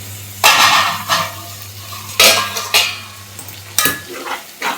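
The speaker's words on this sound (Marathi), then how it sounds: "ह्याला पण छान तेल सुटेपर्यंत मसाल्याला भाजून घ्यायचं." Masala roasting in oil in a pan for Maharashtrian-style chicken sukka, with a steady background sizzle broken by several loud bursts of stirring and scraping against the pan.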